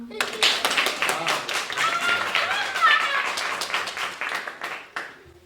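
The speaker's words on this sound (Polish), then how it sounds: "Na zachęcę, na odwagę prosimy o brawa." An audience claps for first-grade pupils at a Polish school ceremony. Dense, fairly close clapping rises and then tapers off while a voice talks over it.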